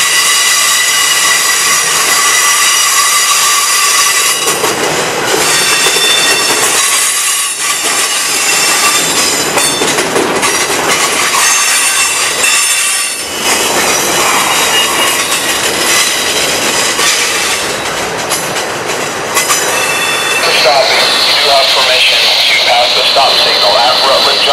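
A loud Norfolk Southern intermodal freight train rumbles past up close, steady roar with rail clatter and a rising metallic squeal near the end.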